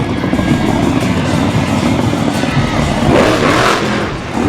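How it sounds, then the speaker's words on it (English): A loud, throaty monster truck engine roars and revs steadily, swelling briefly near the end before easing off, with no voices. "What a truck. Just sounds meaty, doesn't it?"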